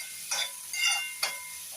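Tomatoes cooking in a pan with red chilli powder, pav bhaji masala, turmeric and salt, heard as a soft, quiet sizzle with three brief scraping stirs of a spoon.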